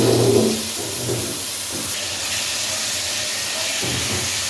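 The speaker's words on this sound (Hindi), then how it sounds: "और अब गोश्त को इसमें अच्छे तरीके से भून लें।" One kilogram of mutton frying in a karahi, giving a steady, even sizzling hiss throughout after a louder clatter at the start.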